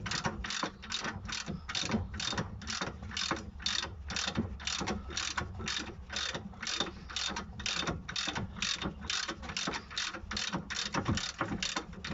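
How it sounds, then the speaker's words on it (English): Rapid, steady clicking of a hand ratchet working loose the brake caliper bolts on a car during a disc and pad change, a continuous run of evenly spaced clicks close to the mic with a low background hum. "Use either an impact, if you can get it in there, or a ratchet."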